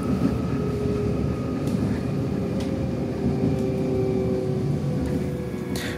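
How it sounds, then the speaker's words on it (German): An S-Bahn commuter train rolls past on double track near Eschborn, a steady loud rumble of wheels and running noise, heard from aboard a train, with faint high whines and a few brief squeaks over the continuous drone. "Zwischen Niederhöchstadt und Eschborn kommt uns dann planmäßig auch eine S-Bahn entgegen"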